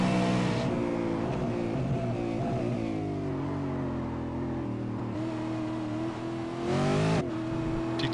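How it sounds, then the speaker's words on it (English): A V8 Supercar in a sim racing game revs hard under throttle at Zolder, the engine note climbing and dropping through gear changes, loud and continuous. "You can hear his throttle application."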